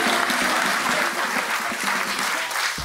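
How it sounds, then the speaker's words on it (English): A studio audience applauds and cheers wildly, a dense, loud, continuous wash of clapping and crowd noise that holds steady for the whole stretch. "Did you hear all your fans going wild?"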